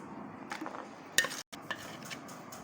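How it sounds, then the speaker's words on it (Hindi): Chana chaat with finely chopped tomato and black pepper being mixed in a bowl, with a few light spoon clinks and soft scraping against the dish over a quiet background, no talking. "ये देखिए इसको ऐसे मिक्स कर लेनी है"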